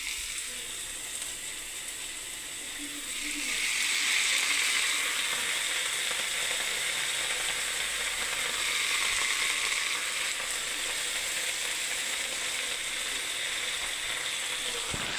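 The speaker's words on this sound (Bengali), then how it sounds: "এখানে পালং শাকটাকে ছেড়ে দিচ্ছি বন্ধুরা। পালং শাক আর আলু কাটাটাকে দেখুন।" Spinach and cut potatoes frying in a pan give a steady, close sizzle that swells louder after a few seconds and then holds, with faint clinks of stirring.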